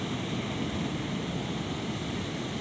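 Ocean waves wash continuously against a beach, a dense, steady roar of surf with wind noise and no distinct breaks or voices.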